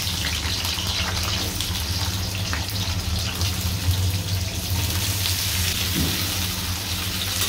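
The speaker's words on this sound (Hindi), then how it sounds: "अब इसी तेल में हम अपने आलू को फ्राई कर लेंगे।" Washed, cut potatoes fry in hot oil for a potato and capsicum curry, giving a steady, close, crackling sizzle throughout with no talking.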